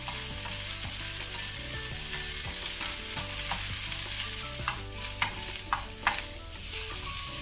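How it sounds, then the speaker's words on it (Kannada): Capsicum for chilli chicken fries on a high flame, a loud constant sizzle with occasional sharp clinks and scrapes of a spatula stirring the pan, close and without talking. "ಸ್ವಲ್ಪ ಇದನ್ನು ಹೈ ಫ್ಲೇಮಲ್ಲಿ ಫ್ರೈ ಮಾಡ್ಕೊಳ್ಳುವ"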